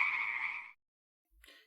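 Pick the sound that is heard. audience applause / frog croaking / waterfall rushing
frog croaking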